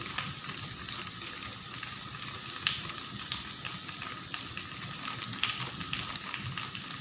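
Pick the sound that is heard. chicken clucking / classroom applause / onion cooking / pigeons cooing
onion cooking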